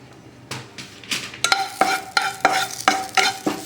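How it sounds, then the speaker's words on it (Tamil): Curry leaves crackling and spitting in hot oil, a series of sharp bursts roughly every third of a second, close and fairly loud, with no talking. "இப்போ கருவேப்பிலை வறுத்துக்கலாம்"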